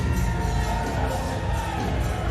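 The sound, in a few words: crowd cheering at Mosconi Cup pool match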